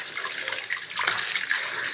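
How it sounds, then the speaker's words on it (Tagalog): Sweet potato leaves are washed in water, with a continuous close splashing and trickling of water, steady throughout and without talk. "Hugasan natin mabuti ang ating talbos guys."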